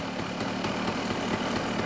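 A genuine Stella two-stroke scooter engine idles after a tune-up, a steady low burbling putter with a faint uneven knock, close and continuous with no voices.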